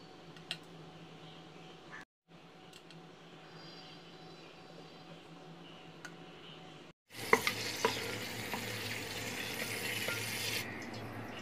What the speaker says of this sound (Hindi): कुकर में मैंने ऑयल डाल दिया है। अब हम तेज़पत्ता, इलायची और लौंग डाल देंगे।